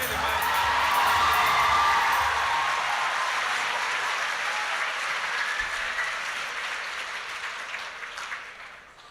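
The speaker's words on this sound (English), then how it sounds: "Let's give all of our Beach Boys a big round of applause." Audience applause with some cheering and whoops fills a school pageant hall, loud and sustained from the start and slowly tapering over about nine seconds, with no talk over it.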